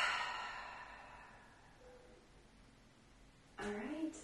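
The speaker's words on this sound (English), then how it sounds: "full releasing exhale out of your mouth" A full releasing exhale out of the mouth during a yoga breathing practice, a soft breathy sigh rising from quiet and fading over a few seconds, with a brief voice entering at the end.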